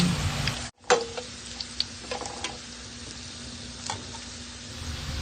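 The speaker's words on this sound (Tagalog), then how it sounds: "And then stir it. Haluin na mabuti until it gets brown," Adobo chicken browning in a frying pan, a low steady sizzle with a few scattered stirring knocks and scrapes near the start and middle, fairly quiet and without talk.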